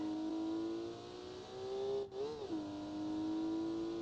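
Car engine at full power in a BeamNG driving game, a sustained steady drone with a brief dip and rise in pitch midway, fairly quiet and without voices.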